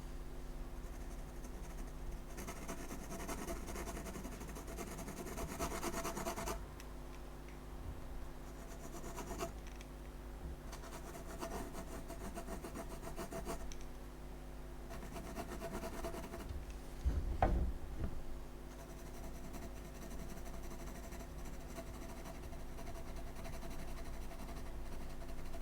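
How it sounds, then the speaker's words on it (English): A pencil rubs and scratches across paper while a home or studio sketch gets detailed, soft continuous strokes with quieter pauses and one sharp knock partway through. "I'm just going to go back in with some pencil now."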